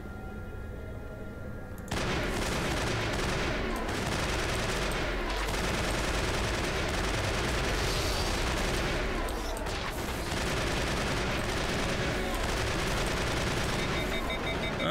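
Sustained, dense gunfire from a weapon in Mass Effect kicks in abruptly after a quieter start, a loud continuous rattling barrage with game noise layered underneath.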